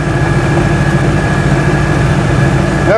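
A three-wheeler car engine labours uphill on Welsh roads, heard from on board as a loud, steady low drone with a faint whine, continuous and without talk.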